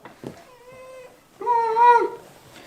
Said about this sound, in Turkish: Niye miyavlıyorsun?